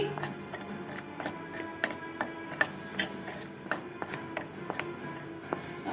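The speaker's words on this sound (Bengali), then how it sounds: "এক এক করে মশলা দিয়ে দিলাম, এটাকে মিক্স করে নিচ্ছি।" A Lote fish (Bombay duck) chop mixture is mixed with spices, producing quick rhythmic rubbing and squishing strokes close up, repeating evenly throughout without talk.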